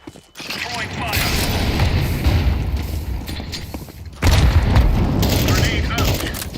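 Incendiary grenade thrown in Counter-Strike, a booming whoosh of flame that swells and holds, then a second loud burst and roar partway through, with mechanical clatter and gunfire-like noise in the game mix.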